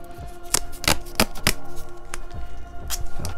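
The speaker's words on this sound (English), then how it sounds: "Put the old Gorilla Tape on here" Gorilla Tape is pulled off the roll and pressed into place, making a string of sharp, close tearing rips and crackles in irregular bursts.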